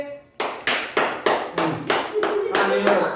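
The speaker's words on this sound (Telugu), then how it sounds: "షేక్ క్లాప్ కొట్టండి." A group of people clapping hands together during a Sunday fun game, about ten sharp, loud, evenly spaced claps in a steady rhythm, each ringing briefly before the next.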